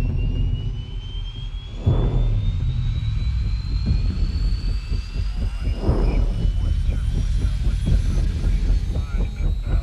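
Helicopters flying in a Kong: Skull Island trailer, a loud, steady engine roar with a slowly rising turbine whine and rhythmic rotor pulses, while voices speak briefly over it.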